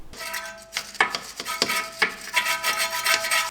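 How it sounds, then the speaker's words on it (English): A wire brush scrubbing clean the ABS wheel speed sensor hole on an Audi/VW, close rasping strokes in short irregular bursts, with no talk. "It's a good idea just to give it a bit of a clean up with a wire brush before you install the new one."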